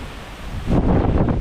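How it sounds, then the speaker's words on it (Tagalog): A gust of strong wind rushes against the microphone, building into a loud, buffeting roar after a moment of steadier blowing. "Ang lakas ng hangin!"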